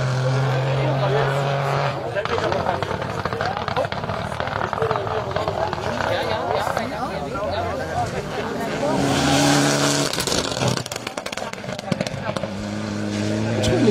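A rally car on a special stage at the Wervik rally, the engine swelling loud and near with throttle blips and a rasping pass before fading, under a commentator's talk.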